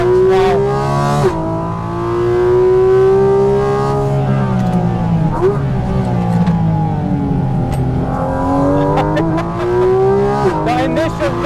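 Onboard a Porsche GT4 RS lapping the Nürburgring, its engine a loud, steady, close drone that rises and falls in pitch through the gears and corners, with brief tire noise and shifts between.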